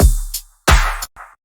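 Four-on-the-floor synthwave beat for a TRON-style Disney-type theme, heard as two heavy kick-led hits with bright noisy tops and a short tail, punchy and close, no voices.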